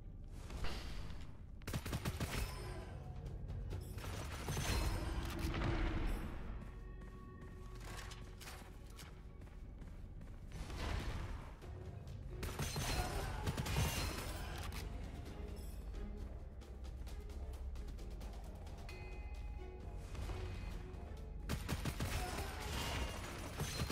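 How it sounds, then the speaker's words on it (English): Rapid sustained bursts of Gatling gun fire in a video game, loud and dense, with crackling impacts and mechanical clatter layered over a continuous game soundscape. "Y'all thought I was gonna take anything but the Gatling gun."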